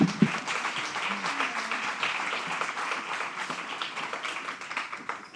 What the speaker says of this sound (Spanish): Os pido también un aplauso para ellas.